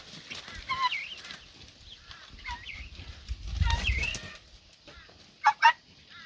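Chickens make soft warbling, clucking calls, including a hen's two-syllable call, scattered and fairly faint over a low background rumble, with a couple of louder sharp squawks near the end.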